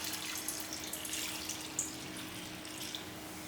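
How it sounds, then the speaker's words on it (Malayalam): Water poured into a curry pot of ripe papaya and drumstick, a faint steady splashing trickle with small drips, quiet and continuous with no talk. "നമുക്കിതിലേക്ക് വെള്ളം ഒഴിച്ച് കൊടുക്കാം കേട്ടോ."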